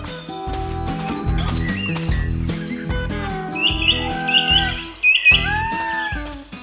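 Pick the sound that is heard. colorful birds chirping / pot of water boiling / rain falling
colorful birds chirping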